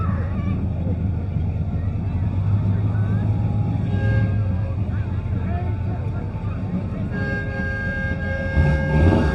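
Cars rolling past in a town Christmas parade, steady engine rumble at moderate distance with someone talking over it.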